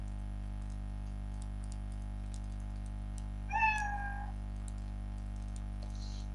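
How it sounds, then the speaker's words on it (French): A single synthetic cat meow from the Scratch programming environment sounds once mid-clip, clear and short, over a steady low hum, with faint keyboard clicks around it. "j'aimerais, et bien tenez, qu'il me dise... miaou en même temps, pourquoi pas."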